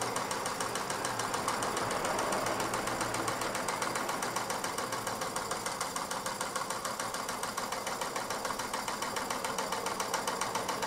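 A Mamod SP8 James Watt model stationary steam engine runs steadily with its regulator eased back slightly, giving a fast, even mechanical chuffing and ticking rhythm, close by and continuous, with no talk.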